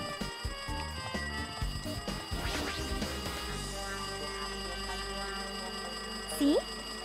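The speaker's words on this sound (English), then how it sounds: "That phone's ringing off the hook." A telephone rings insistently in Danganronpa 2, its metallic bell-like trill repeating under game music and ambient tones, with a brief louder sound effect near the end.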